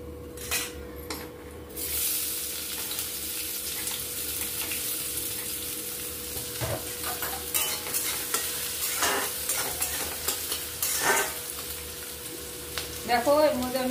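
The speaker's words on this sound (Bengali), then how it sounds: "দেখো এর মধ্যে আমি এখন তেজপাতা, লঙ্কা, জিরে আর পেঁয়াজ ফোড়ন দিলাম।" A tempering of bay leaf, chilli, cumin and onion sizzling in hot oil in a home kitchen, with a loud steady hiss, spoon stirring, and a few pan knocks close by.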